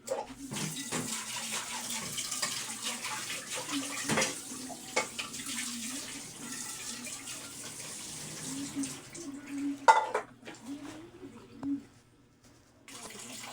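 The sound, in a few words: washing a pot under running water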